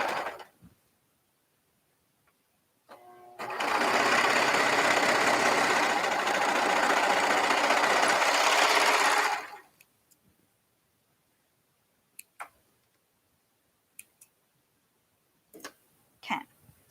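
A desk sewing machine stitching an Etsy order runs in one steady, close whirring burst of about six seconds, then stops, leaving a few faint clicks and taps.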